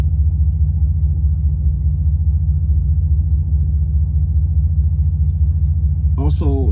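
Low, steady exhaust rumble from a 1980 car cruising along, droning continuously and fairly loud, with a brief voice starting near the end.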